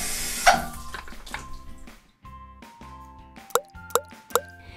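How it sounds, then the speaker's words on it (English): Water rinses shampoo from hair, with soft splashing and pouring that trails off into a few distinct plops and drips, close and fairly quiet. "Now rinse that off before using some conditioner."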